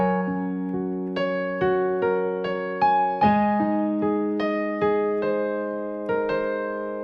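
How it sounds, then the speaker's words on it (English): A piano section from a song is played very slowly, chord by chord, each struck tone ringing out before the next, up close and alone without talk. "I'm gonna play it for you very, very slowly."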